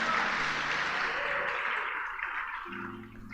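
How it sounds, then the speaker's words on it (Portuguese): Church congregation applauding during a worship service, a moderate wash of clapping that slowly thins out, followed by a faint voice at the end. "Aplauda o Senhor, se você puder,"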